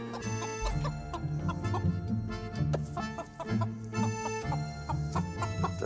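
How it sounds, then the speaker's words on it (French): A rooster, mascot of French football supporters, clucks repeatedly in short, close bursts with a rhythmic cackling pattern and no talking. "Il a toujours son coq Balthazar avec lui"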